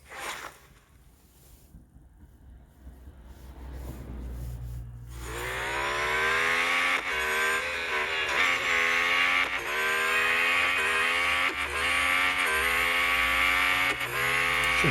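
A Formula 1 car in a racing game at the Abu Dhabi Grand Prix circuit roars into a loud, high engine whine after a quiet start, climbing through repeated gear shifts at full throttle.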